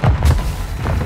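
A Semtex grenade going off in Call of Duty: Modern Warfare II multiplayer, a single loud, close, booming blast with a heavy low rumble that fills the whole short moment.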